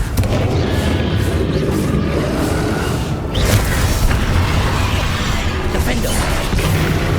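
Booming fiery blast of the Confringo spell in the Hogwarts Legacy game, a loud explosion with dense crackling rumble and a sharp burst midway, amid continuous game effects.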